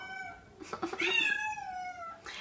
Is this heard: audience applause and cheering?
no